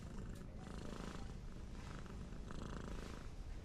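A domestic cat purring very close, a soft, steady, low rumbling pulse that continues unbroken and quiet throughout.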